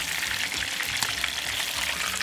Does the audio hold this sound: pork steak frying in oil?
yes